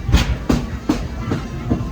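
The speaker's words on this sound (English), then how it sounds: "please remain seated until the train comes to a complete stop" Disneyland Railroad train rolling into New Orleans Square station, with a steady rhythmic clickety-clack of wheels on rail joints and a low rumble underneath.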